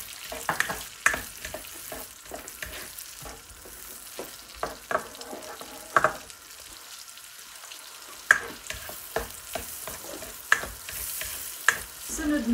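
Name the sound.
onions frying in butter for beef kaldereta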